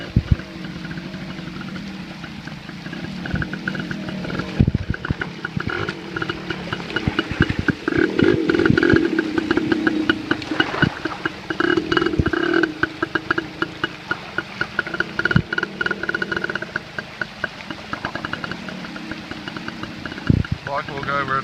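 A motorcycle with a troublesome carburetor that takes in water rumbles and idles unevenly while riding through Skippers Canyon, sputtering with sharp knocks and bumps. A voice talks over the engine for much of the time.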